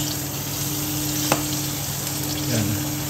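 Chicharon frying in oil while being stirred, a loud dense sizzle throughout with a brief clink and scraping swirl of the oil near the end, no talking.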